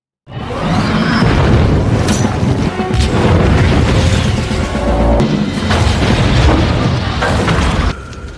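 A film scene of an aircraft exploding: a loud, booming explosion with crashing debris and rumbling blasts rolls on for several seconds, dense and powerful, then cuts off abruptly.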